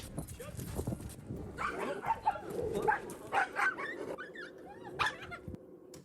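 Two dogs meeting and playing roughly, with yips, barks and whimpers breaking through a busy, noisy background while people talk over them.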